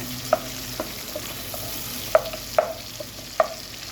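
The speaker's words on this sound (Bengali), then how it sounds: "পেঁয়াজ কুচি এখানে আমি দুই টেবিল চামচ দিয়েছি এটা দিয়ে একসঙ্গে এটা একটু বেরেস্তা করে নেব" Two tablespoons of chopped onions fry in a pan until golden, giving a low steady sizzle broken by sharp clicks and scrapes from stirring.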